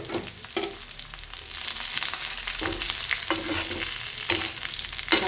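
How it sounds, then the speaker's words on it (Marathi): Green chillies and curry leaves hit hot oil for a tempering, crackling and sizzling with repeated sharp bursts and spatters over a steady frying hiss, close and moderately loud, with occasional stirring. "आता यामध्येच आपण मस्त हिरव्या मिरच्या आणि कढीपत्ता पण लगेच टाकून घ्यायचा आहे।"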